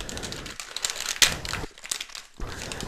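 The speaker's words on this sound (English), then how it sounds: "When you open your IV bag, there's usually a rip tab, and you rip it down the side" A plastic wrapper on an IV bag is ripped open by its tab, giving a close, quiet crinkling and tearing with a few sharper crackles over about three seconds, with no voice over it.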